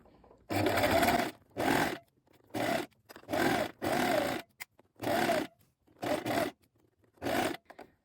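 A domestic sewing machine runs a long basting stitch about 5 mm from a fabric edge to form a gathering line, in eight short close bursts separated by brief silences.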